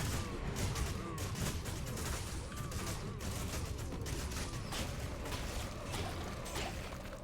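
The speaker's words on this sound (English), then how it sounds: "I love the range of Corpse Explosion too." Corpse Explosion spell in Diablo 2 Resurrected, a dense, continuous barrage of overlapping bursts and crashes from a large group of enemies, loud and busy throughout with no pauses.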